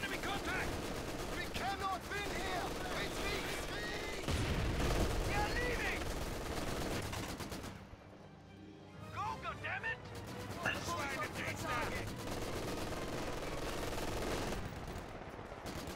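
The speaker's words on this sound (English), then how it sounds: "I'm firing my mortar at that bastard" Mortar fire in Company of Heroes 2 on the Lienne Forest map, with repeated gunfire and explosions in the battle mix and frequent talk from players over the top.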